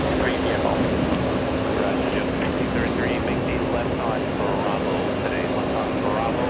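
A Delta Airlines jet departing JFK for Las Vegas gives off a steady, even engine roar with a constant low hum, heard from a distance and unbroken throughout.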